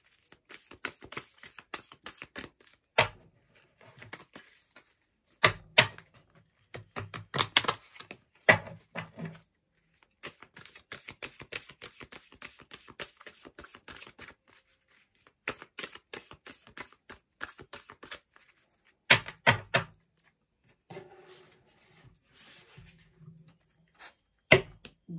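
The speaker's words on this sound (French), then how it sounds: "je vais mélanger les cartes" Tarot cards being shuffled by hand, heard as short, soft riffling bursts that come and go with quiet pauses between, close and fairly faint, with no talking.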